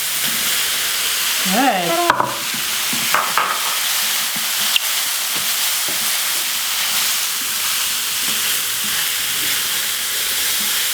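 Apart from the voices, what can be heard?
tomatoes sizzling in a pan for chickpea vegan omelette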